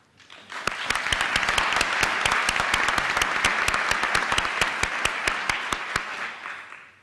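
Applause from a large audience at an academic investiture ceremony, building quickly to a steady, dense wash of clapping with sharp individual claps standing out nearby, then tapering off at the end.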